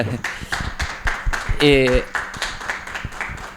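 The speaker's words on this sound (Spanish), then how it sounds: "aplaudirlo ahora sí" A small audience at a talk claps steadily for a few seconds, the clapping mixed with a voice speaking partway through.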